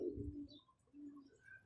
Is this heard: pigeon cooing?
yes